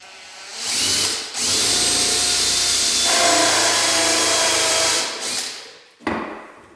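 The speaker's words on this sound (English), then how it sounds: "we take the pilot drill out, and then we can go all the way through" A power drill with a pilot bit whines and bores through Victorian wooden floorboards in a long, steady burst, pausing briefly, then starting up again in shorter bursts close by.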